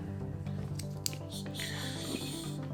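A power wire is squashed through into a 12V jerry can pump: soft close squishing and rubbing with a few small clicks and squeaks over a low background hum.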